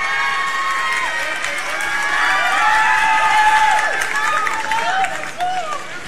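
A school sports crowd of student athletes cheers and shouts in a sustained, loud roar, with whistling and excited voices rising and falling throughout, and talk mixed in.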